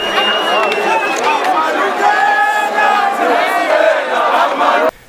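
A large crowd of students, workers, lecturers and members of the public marches in Pretoria toward the Union Buildings, making a dense, steady roar of voices, chatter and shouts that cuts off abruptly at the end.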